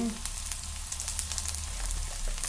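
Green chillies, dal and curry leaves frying in hot oil for a ridge gourd chutney, a soft, even sizzle close by with light stirring and no talk.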